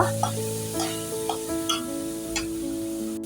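Garlic and asafoetida sizzle in hot oil while a spoon stirs them in a pan for bread pakora, crackling frying under a few distinct scraping strokes.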